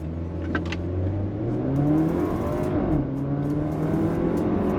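A Porsche Macan compact SUV accelerating hard, its engine note climbing steadily through the gears with rising harmonic whine, close and loud inside the car, with no talking.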